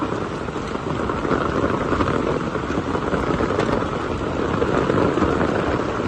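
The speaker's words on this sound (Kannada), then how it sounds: "ಜೋರು ಮಳೆ ಬರ್ತದೆ." Dense, heavy rain pours steadily at Kakolem beach in Goa with a constant loud roar, no pauses, filling the whole scene.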